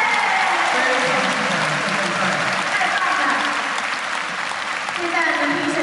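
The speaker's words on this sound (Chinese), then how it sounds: "掌声鼓励一下，" A crowd at an indoor lion dance championship in Taipei Arena gives sustained, loud applause, with steady clapping that fills the whole stretch without a break.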